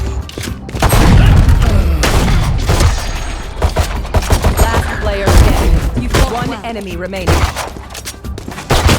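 Gunfire from the video game Valorant: bursts of shots and booming impacts crowd the first half, followed by further scattered shots, all loud and close amid busy game noise.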